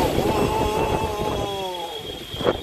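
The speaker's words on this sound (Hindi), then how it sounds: "ये देखिए कितनी तेज हवाएं चल रही है" Strong wind gusting over the microphone outdoors ahead of a storm, a steady broadband roar with a louder gust near the end, while a voice speaks over it.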